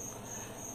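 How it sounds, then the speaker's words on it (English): Crickets chirping in a steady, continuous high drone, faint and even with no breaks or other sounds. "I know you hear the crickets"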